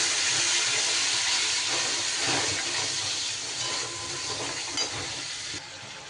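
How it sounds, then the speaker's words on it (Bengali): Chopped tomato and a small splash of water sizzle and hiss steadily in a hot oiled pan while cooking potol (pointed gourd) curry, a loud constant frying crackle that eases off slightly near the end. "এরই ওপরে দিয়ে দেব আমি একটা আগে থেকে কেটে রাখা টমেটো, দিয়ে দেব খুব সামান্য একটু জল।"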